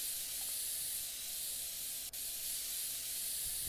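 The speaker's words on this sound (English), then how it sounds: "You can get red spray paint." Red spray paint hissing from a can in the game Woodwork Simulator, a steady, close, continuous hiss that runs with barely a break, one tiny gap in the middle.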